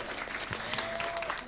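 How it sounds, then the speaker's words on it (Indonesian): A studio audience gives a short round of applause at a religious-school cultural show, fairly faint, with a faint tone and some voice underneath. "Luar biasa, tepuk tangan."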